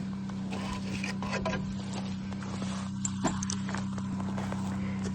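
Horse hooves clip-clopping in a steady walking rhythm during a hot-weather ride, close by over a constant background hum.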